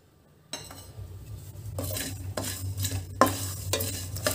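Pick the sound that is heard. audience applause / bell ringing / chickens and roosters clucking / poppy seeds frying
poppy seeds frying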